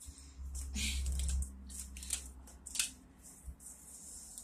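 Repeated crisp riffling and flicking bursts of cards being shuffled, close up, in several quick clusters with a low steady hum underneath.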